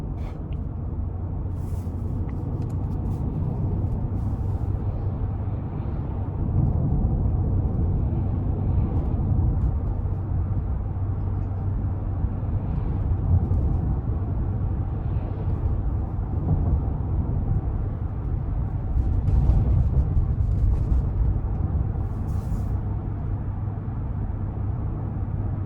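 A 2021 Chevrolet Suburban High Country with a 6.2 engine rolls down a bumpy back road, giving a steady low cabin rumble and road noise with faint intermittent thumps and no talk.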